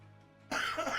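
A single sharp cough bursts out halfway through, loud and close after a quiet room tone, from a man reading through a Tower of God comic.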